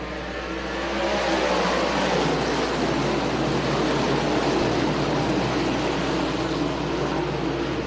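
Race cars roar around the short track at Fonda Speedway during a Short Track Super Series event, a dense, loud, sustained wall of engine noise that builds in the first second and then holds steady.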